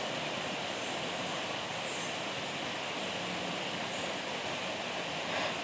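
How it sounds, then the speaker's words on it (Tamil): Ground masala paste of tomato, onion, ginger and garlic sautés in oil in a pan over a medium flame for chicken masala gravy, giving a steady, loud, continuous sizzle with no voices. "அடுப்பை மீடியம் ஃப்ளேமில் வச்சு ஒரு 2-3 நிமிஷம் நல்லா வதக்கி விட்டுக்கலாம்."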